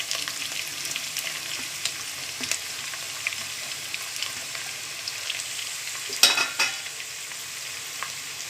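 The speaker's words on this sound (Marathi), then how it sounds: "त्यानंतर आपण याच्यामध्ये दोन उभे चिरलेले हे कांदे आहेत मी घेतलेले, ते आपण फोडणीसाठी घालूया." Sliced onions for tempering fry in hot oil for a vegetable pulao, giving a steady, dense sizzle throughout. A couple of brief sharper crackles and stirring clinks rise above it near the end.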